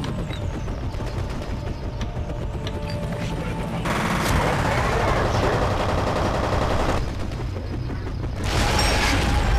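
Sustained automatic gunfire in the shooter game FEAR rattles continuously for nearly ten seconds, dense and loud, swelling in intensity in several bursts.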